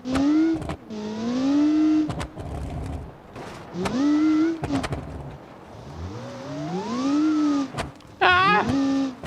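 A race car engine in a racing video game, driven on dirt with heavy oversteer, whines through repeated rising and falling revs, dropping between bursts and climbing again with loud, close-up pitch sweeps.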